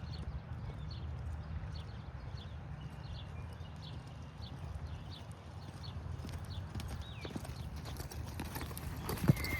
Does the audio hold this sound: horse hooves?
yes